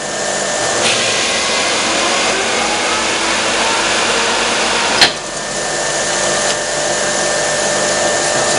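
Holbrook C10 toolroom lathe running steadily at spindle speed, a loud continuous mechanical whir with a single brief knock near the middle, no voices.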